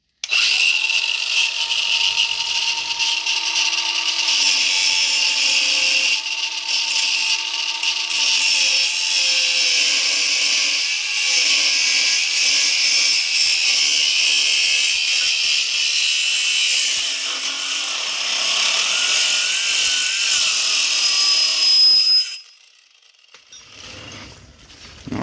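An electric welder works on parts for a Coleman B200 minibike, giving a loud, continuous crackling buzz up close for over twenty seconds before it cuts off abruptly into near silence.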